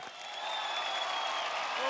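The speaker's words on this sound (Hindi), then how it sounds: "जोरदार तालियां भाई" Studio audience applause on an Indian TV talent show, a steady dense wash of clapping held at even loudness for the full two seconds, with a sustained musical tone running underneath.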